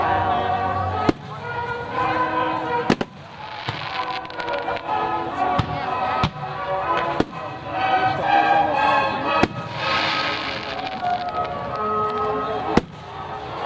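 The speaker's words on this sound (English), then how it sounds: "Muzzle burst. Hey Sammy, that was a nice mine" Public Independence Day fireworks display in Muskegon, 1996: repeated sharp mine and shell bursts crack out at irregular intervals over a continuous crackling background, loud and fairly close, while spectators talk excitedly between blasts.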